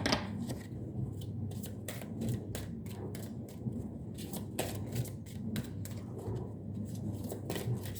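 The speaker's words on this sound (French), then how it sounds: "on prend une autre carte avec l'oracle chakra du cœur" Oracle cards shuffled and drawn in a heart chakra card reading, giving a steady papery riffle with quick sharp flicks and slaps close by, no voice over it.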